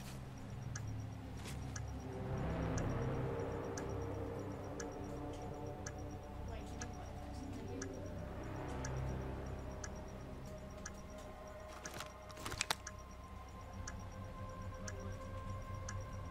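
A planted bomb in a tactical shooter video game ticks in a steady, even rhythm of faint beeps beneath low game ambience and background drone, with a few sharper sounds near the end.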